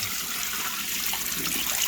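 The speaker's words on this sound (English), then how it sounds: "And then you throw that water off." Washing water thrown off oxtail meat in a home kitchen gives a short, steady splashing pour, fairly close and with no talk.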